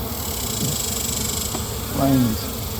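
Honey bees buzz around neglected hives on a remote property, a steady nearby hum with a louder individual bee passing close near the end.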